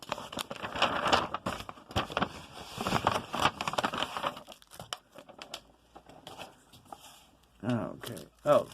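Tape and packaging of a mail parcel from Japan being cut and torn open, with crinkling and ripping bursts up close, interrupted by pauses and some talking.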